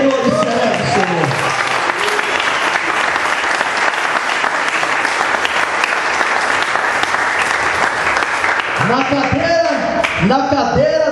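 A church congregation at a pastor's consecration service bursts into loud, sustained applause and celebration, with voices shouting and singing over the clapping at the start and again near the end.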